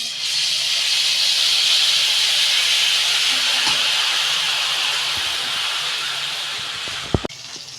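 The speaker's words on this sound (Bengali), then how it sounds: "তেল গরম হয়ে গেছে আমি গুড় এগুলো ভেজে নিচ্ছি" Cashews and jaggery fry in hot oil for laddu with a loud, steady, close hiss throughout that eases slightly toward the end, broken by a couple of sharp knocks.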